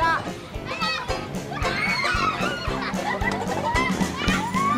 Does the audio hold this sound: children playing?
yes